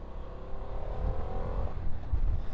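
A 2024 Harley-Davidson Pan America Special motorcycle pulls hard in fifth gear on pavement, its engine note climbing steadily under a constant rush of wind, heard from the rider's position.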